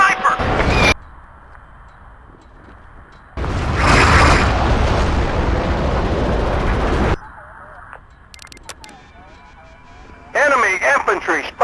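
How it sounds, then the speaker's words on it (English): Heavy artillery blasts in the video game Battlefield 2 roar as a long, loud rumbling barrage, followed by quieter stretches broken by clipped radio-style voice callouts. "Artillery firing."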